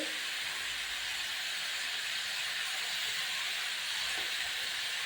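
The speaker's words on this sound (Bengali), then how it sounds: "লাউ কিন্তু জল ছেড়ে দেয়, তাই একটু ভেজে নেব।" Bottle gourd pieces with salt and turmeric frying in a pan give off a steady, continuous bright sizzle and hiss, even and unbroken throughout.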